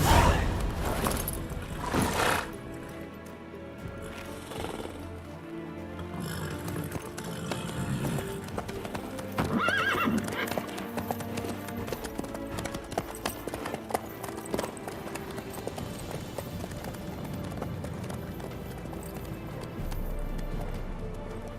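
Hooves clip-clop steadily as a horse named Roach travels in The Witcher 3: Wild Hunt, a rhythmic trotting beat running continuously under a game music bed, with a brief whinny early on.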